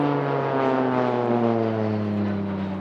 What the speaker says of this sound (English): showing you the maneuverability of the PC-7 aircraft